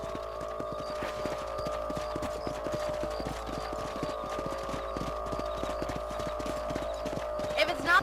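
Horses clip-clop steadily during a ride in Red Dead Redemption, their regular hoofbeats sitting under continuous talk with a constant background hum throughout.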